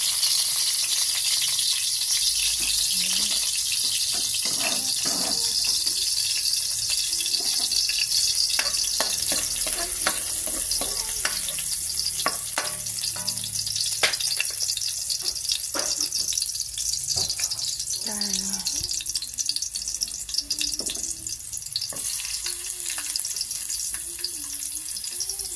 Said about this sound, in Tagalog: Pagkatapos, igigisa natin sa garlic.